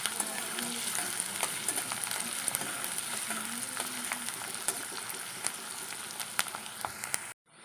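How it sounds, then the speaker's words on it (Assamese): Chopped onions fry in a pan for an Assamese egg curry, giving a close, even sizzle and crackle with scattered pops and faint stirring scrapes throughout, ending abruptly, with no voices. "কাটি থোৱা পিয়াজখিনি মই ইয়াত দি দিছো অকণমান সময় মই পিয়াজখিনি পকিবলৈ দিছো"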